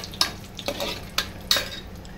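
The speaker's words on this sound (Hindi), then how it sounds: "ये तीनों एक साथ आप फ्राई कर लें पहले।" A spoon stirs dry fruits and makhana frying in ghee in a pan, with four distinct scraping strokes over a soft continuous sizzle, close and clear with no talking.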